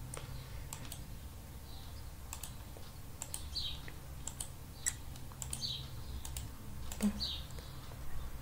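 Typing a username on a computer keyboard, with soft, irregular key clicks in short bursts over a quiet room hum and faint background chirps.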